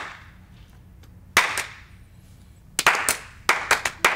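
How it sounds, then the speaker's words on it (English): A single person's hand claps ring out in a quiet room on a talk panel show, first an isolated clap, then a brisk burst of several sharp, close claps near the end. "I was clapping for me"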